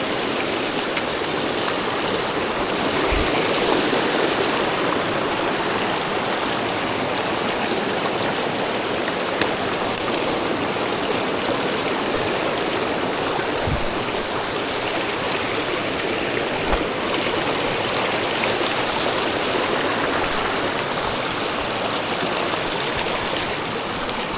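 A mountain stream rushes at a trail water crossing in the Adirondack High Peaks near Mount Marcy, a steady, loud, close wash of flowing water that stays constant throughout with no voices.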